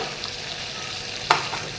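Fish frying in a pan over a low gas flame makes a steady, close sizzle, broken once near the end by a brief sharp clink, with no talk.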